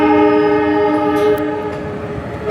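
A train at Gandhigram railway station sounds a loud, sustained horn close by over a rumbling engine, with a steady drone that fades slightly toward the end.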